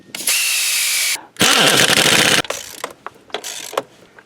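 A power tool tightens an engine mount bolt on a 2012 Ford Fusion in two loud, sustained bursts, followed by shorter uneven bursts and rattling.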